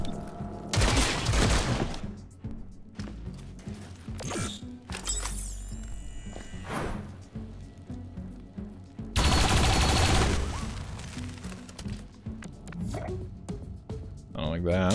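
Bursts of automatic gunfire from the tactical game XCOM Chimera Squad crack out in several loud volleys separated by quieter stretches, as someone speaks between and over the shots.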